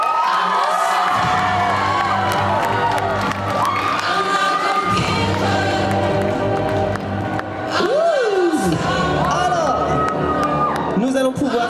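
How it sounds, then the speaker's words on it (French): A live audience at a Japan Mania 2026 cosplay contest cheers, whoops and claps loudly as contestants step onto the stage, with shouting voices and crowd noise continuing throughout. "Sous vos applaudissements"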